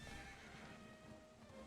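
A horse in the video game Dragon Quest XI neighs faintly over a busy game soundscape, with hoof clip-clops beneath it, quiet throughout.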